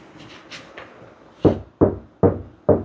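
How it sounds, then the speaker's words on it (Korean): Knuckle taps on the thin sheet-metal door panel of a Grand Starex van on its unsoundproofed side, first a few light taps, then four louder hollow knocks at an even pace, close up. "여기는 이제 그래도 문을 닫고 한번 살짝 두드려 보겠습니다"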